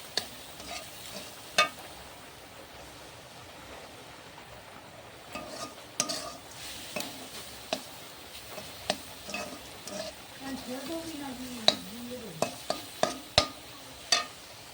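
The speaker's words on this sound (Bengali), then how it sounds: "চিনি দিয়ে ভালো করে নেড়ে চেড়ে পুরটা রেডি করে নেব" Quiet scraping and tapping of a spoon stirring a coconut and sugar filling in a pan, irregular knocks against the metal over a soft sizzle.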